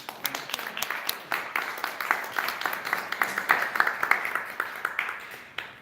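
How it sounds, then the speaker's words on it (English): A small audience claps after a question-and-answer session, with steady, fairly sparse hand claps close by and quiet background sound in between. "Clapping from home."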